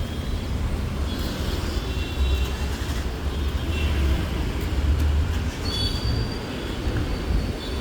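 Trains at Mumbai's Chhatrapati Shivaji Maharaj Terminus railway station, a steady rumble of rolling railcars with faint wheel squeals drifting over the din, heard from outside the station at moderate distance.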